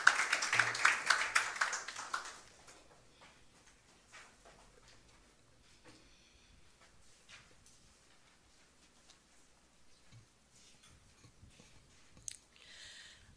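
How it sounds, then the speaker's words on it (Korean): Applause from an audience at a Seoul residents' public hearing on eco-tourism, welcoming a committee vice-chair to give opening remarks; a dense burst of clapping for about two seconds that quickly fades to a quiet room. "큰 박수로 마중해 주시기 바랍니다"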